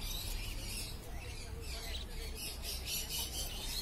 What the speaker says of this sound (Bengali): এবারে এক ঝাঁক বদ্রি পাখি দেখতে পাচ্ছেন